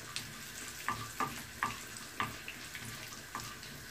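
Urad dal, mustard seeds, cumin and chana dal fry in hot oil, a soft steady sizzle broken by small sharp pops and crackles every half second or so, fairly faint and with no voices.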